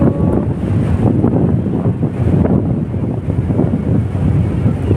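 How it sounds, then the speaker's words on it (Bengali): Strong wind buffeting the microphone over rolling sea waves at Mandarmani beach, a loud, continuous gusty roar with surf surging underneath and no voices. "এই দেখো আমাদের সমুদ্র।"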